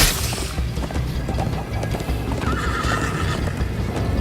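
A horse in the video game Minecraft Story Mode gallops with steady, rapid clip-clop hoofbeats and a whinny, loud and close over a dense rushing background.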